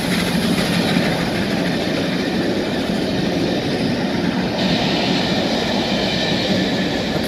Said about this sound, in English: Special charter train coming through Doncaster, rail tour. It's a steam train.